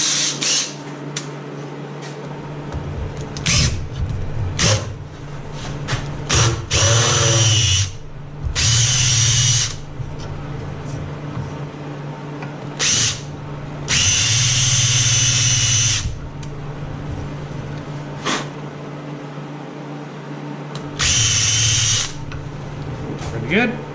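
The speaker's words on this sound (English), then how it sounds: "No, I'm going to countersink first" Power drill countersinking a hole in metal on a Simplicity tractor snow blower, in several loud bursts of whining, grinding drilling separated by pauses, with talk in the gaps.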